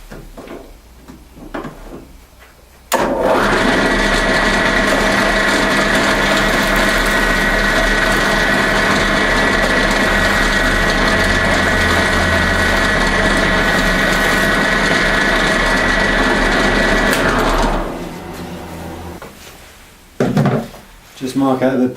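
A power drill runs continuously and loudly for about fifteen seconds, boring steadily with a high whine, then stops; brief clunks before and after.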